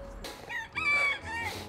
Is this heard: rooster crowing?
yes